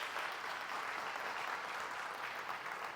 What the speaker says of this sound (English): How about another warm welcome or a round of applause for Matt?